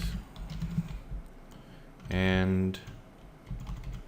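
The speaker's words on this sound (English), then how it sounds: "let's type next" Someone types code on a computer keyboard, producing soft, quick clicking keystrokes throughout while a person talks over them.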